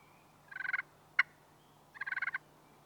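A striker dragged across a slate friction call imitates a hen turkey: two short rattling runs of rapid, raspy notes separated by a single sharp cluck, close and clear over a quiet background.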